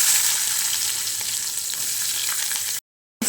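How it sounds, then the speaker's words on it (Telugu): Onions and green chilies frying in hot oil in a kadai, a loud, steady crackling sizzle heard up close, cutting briefly to silence just before the end; no talking. "ఆనియన్స్ బ్రౌన్ కలర్ వచ్చే వరకు వేయించుకుందామండి"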